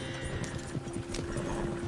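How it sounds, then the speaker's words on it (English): Horses gallop at speed in Red Dead Redemption 2, their steady rapid hoofbeats drumming close and continuous beneath a low hum of game ambience, with no talk over them. "Horses won't go this fast for long."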